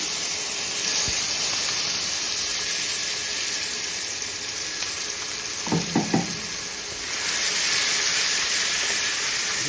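Continuous loud sizzling and hissing from ginger and green chilli paste frying in a hot pan, briefly quieter midway with a few clanks of a utensil, then the frying swells again.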